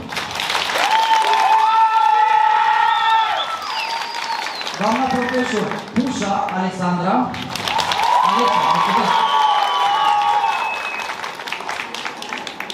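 Applause from an audience at a school freshman ball in a Romanian national college, steady clapping that surges and fades while a presenter speaks over a microphone.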